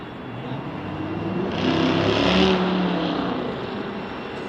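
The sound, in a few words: KLM airplane during planespotting at Salt Lake City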